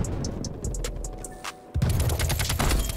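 An AK assault rifle fires in Black Ops Cold War, with a few sharp shots early and then a dense, loud burst of automatic fire for the last second or so, over a steady game background.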